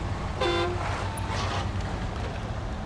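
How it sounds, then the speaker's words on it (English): A cheap little clown horn on a truck in the SnowRunner video game gives one short, bright toot over a steady engine rumble. "What cheap little clown horn is that?"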